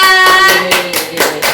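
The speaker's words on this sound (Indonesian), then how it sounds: "tepuk tangan dulu untuk Arya" A short burst of rhythmic hand claps, about four sharp beats, over a sustained ringing tone.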